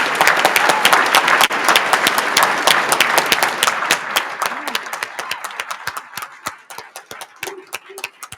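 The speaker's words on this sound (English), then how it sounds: "Let's take another moment to acknowledge these amazing young scholars with our applause." Loud, close applause from the audience at a Phi Beta Kappa induction ceremony for new scholars starts as a dense burst of clapping, then thins into scattered individual claps that fade over several seconds, with brief voices near the end.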